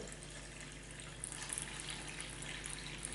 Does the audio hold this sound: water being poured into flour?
yes